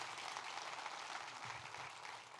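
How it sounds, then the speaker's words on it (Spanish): Dense, steady applause from a church congregation, a soft continuous wash of many hands clapping at a distance. "Si sos parte, dale un aplauso a Dios por lo menos."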